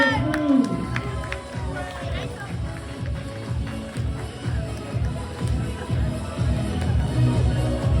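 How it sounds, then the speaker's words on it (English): A school prom audience cheers and shouts for dancers at a comedy hypnosis show, a loud crowd roar with scattered yells while someone talks over it. "All right, audience, cheer them on."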